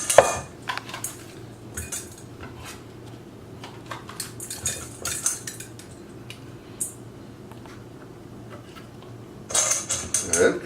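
A knife taps and scrapes against a board and dish while a pepper is cleaned in a kitchen, with sharp intermittent clinks and clatters, close and fairly quiet, with no talking.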